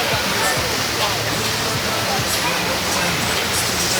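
Constant rushing water, loud and close, a dense steady roar like a fast-flowing river, with faint voices buried underneath.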